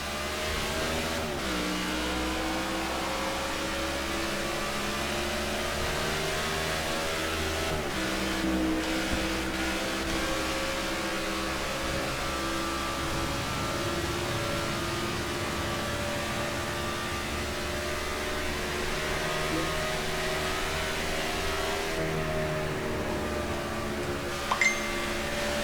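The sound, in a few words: race cars accelerating at green flag in NASCAR '15 video game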